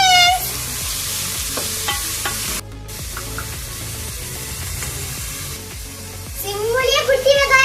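Small onions sautéing in a pan for Tamil green sundakkai kuzhambu, a steady sizzle with spoon stirring and scraping throughout, louder frying bursts near the end, and a voice faintly in the background.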